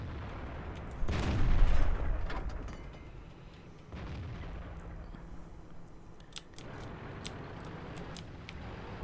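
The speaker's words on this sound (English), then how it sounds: "Do a long range shot to protect the IS-3 from range." A long-range tank gun shot in World of Tanks fires with a loud, heavy boom that rumbles and fades over a couple of seconds, followed by quieter low battle ambience and a few faint clicks.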